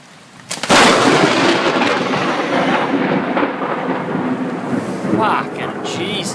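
Western Australian thunderstorm: a sudden loud thunderclap bursts in and rolls on as a long, heavy rumble over steady rain, close and powerful, fading slightly before another surge near the end.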